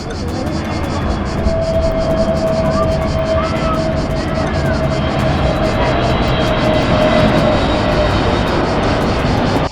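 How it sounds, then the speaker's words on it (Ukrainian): An airplane comes in to land low overhead near Corfu, a steady loud engine roar that holds across the whole stretch, with people talking nearby under it. "Подивитися, як над головами буде сідати літак."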